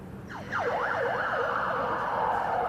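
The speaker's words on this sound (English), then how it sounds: "As another ambulance goes by. They seem to start up their sirens at these lights, Izzy." An ambulance siren wails loudly and close by, sweeping rapidly up and down in a repeating yelp over a low rumble of road traffic near a lawn bowls green.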